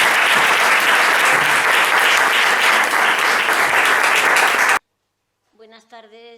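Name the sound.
audience applause welcoming the moderator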